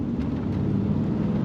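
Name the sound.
1998 GMC Sierra 2500 Vortec 454 V8 engine downshifting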